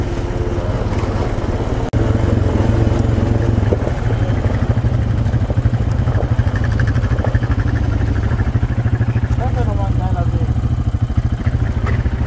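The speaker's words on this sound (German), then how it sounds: "Jetzt fährt Emma vor." A Honda Foreman ATV runs close on an off-road trail, its engine droning loud and steady throughout, with a voice speaking over it.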